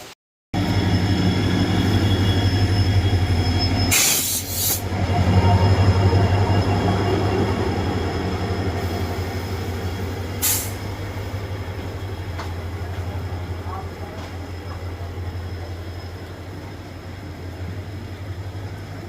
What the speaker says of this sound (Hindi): रानीखेत एक्सप्रेस, दोनों एक दूसरे को क्रॉसिंग दे रहा है।